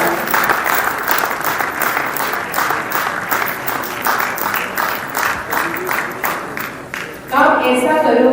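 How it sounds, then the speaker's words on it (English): Loud, sustained applause from a large audience filling a hall, with a brief burst of cheering and crowd noise near the end. "He deserves a big, massive round of applause from everybody in the hall."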